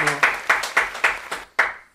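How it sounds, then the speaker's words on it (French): Applause for a winner at a poker tournament: a handful of sharp, evenly spaced claps, about four per second, fairly close and loud, ending with one final clap after a short pause. "Je propose d'abord qu'on l'applaudisse et qu'on le félicite."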